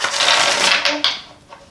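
Tarot cards being shuffled by hand, a dense papery riffle and rustle that runs steadily for about a second, then tapers into a few lighter flicks and taps.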